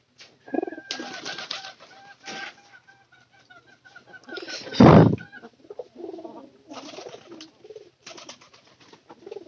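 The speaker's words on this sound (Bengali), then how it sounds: "এই যে পায়রা" Pigeons kept and fed on corn coo in soft repeated calls at close range, with a brief loud flutter of wings midway and scattered rustling between calls.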